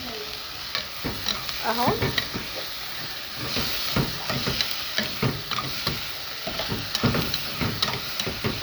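Peppers sizzle and spit in hot oil in a pan, with repeated scraping and stirring strokes through the frying, close and fairly loud, and a voice speaks briefly.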